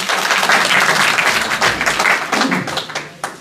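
Audience applause fills a book launch gathering, a dense, steady wash of clapping from a sizeable crowd that swells and then tapers off near the end.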